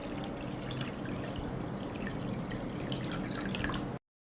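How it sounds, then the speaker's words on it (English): Water is poured steadily into a pot holding jars set on a cloth, a continuous splashing trickle at close range that runs for about four seconds and then stops abruptly. "I pour water into the pot, up to the height of the lid."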